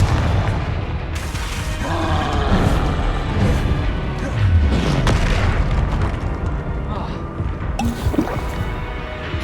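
Fire spell explosions in Hogwarts Legacy combat: booming blasts and crackling bursts recur over several seconds amid dense game effects, loud and close, with a voice briefly calling out spells.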